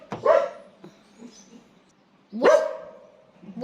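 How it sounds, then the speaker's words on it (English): Dogs barking while playing indoors, two sharp close barks about two seconds apart with whiny tails and soft yips between. "I apologize once again for my dogs barking in the background"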